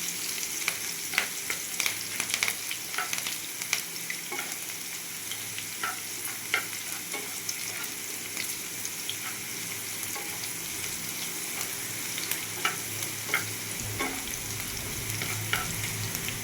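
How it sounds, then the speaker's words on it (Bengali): Ingredients for semolina pulao sizzle in a pan, a steady frying hiss broken by frequent clicks and scrapes of stirring, close and moderately loud throughout. "দেখুন এগুলো একটু আমি ফ্রাই করে নিলাম"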